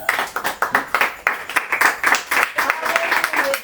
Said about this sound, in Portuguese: bater uma salva de palmas para Jesus